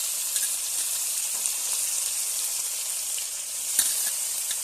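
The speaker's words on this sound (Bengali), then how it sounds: "ভালো করে লাল লাল করে ভেজে নেওয়ার পর দিয়ে দেবো লতাগুলো" Taro stems frying in hot oil in a home kitchen, a steady, loud, hissing sizzle that holds evenly throughout with an occasional faint pop or scrape.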